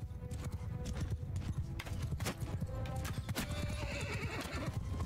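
Horses gallop with steady drumming hoofbeats while whinnies and neighs rise over the busy clatter of a battle in the video game Mount & Blade II: Bannerlord.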